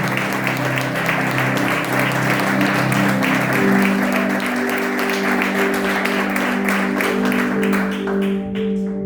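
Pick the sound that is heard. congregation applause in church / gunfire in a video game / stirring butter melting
congregation applause in church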